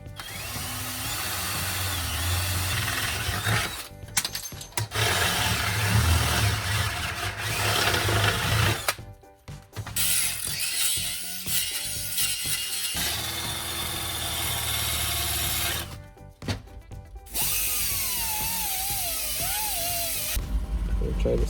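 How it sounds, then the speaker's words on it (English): A power drill bores a drain plug hole in a slim DIY oil pan for a 3SGE Beams engine in a Toyota Corolla, running in long sustained whining runs broken by brief stops, loud and close in a workshop. "We got to drill a hole for the drain plug."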